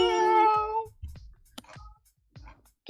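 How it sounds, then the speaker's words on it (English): A pet cat gives one clear, loud meow at the start, followed by softer scattered small sounds and brief faint noises nearby. "My cat wants to be a part of the stream."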